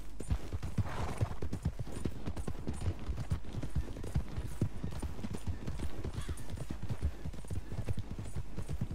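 A black Arabian horse gallops in Red Dead Redemption 2, its hooves clip-clopping in a fast, steady rhythm close by, loud and continuous with no talk over it.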